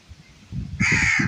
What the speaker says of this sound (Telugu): ఏటంటున్నాయి కాకులు?